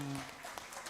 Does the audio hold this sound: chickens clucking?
no